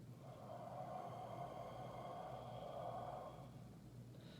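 A slow, audible breath pushed out through the mouth over several seconds, a soft steady airy hiss that fades toward the end, close and quiet with no talking.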